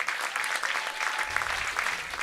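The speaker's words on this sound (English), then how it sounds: "another round of applause for Wes Dale and Colton Blodgett." Crowd at an amateur regional baseball game, River Falls Fighting Fish versus Cadott Red Sox, applauds steadily, a dense patter of clapping heard from the stands, moderately loud throughout.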